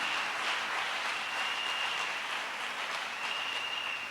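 An audience claps steadily as a broad, even wash of applause at a 2023 speech event, continuous and unbroken with no talk over it.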